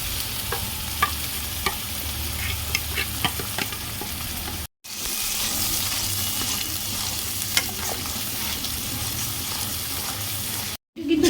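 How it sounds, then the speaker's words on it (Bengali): Onion, garlic and pumpkin seeds with salt, turmeric, sugar and green chili sizzle in hot oil in a kadai, crackling continuously under repeated scraping stirs, broken by two brief silent cuts. "পেঁয়াজ, রসুন দিয়ে আর তেলের মধ্যে দিয়ে খুব ভালো করে নাড়াবো"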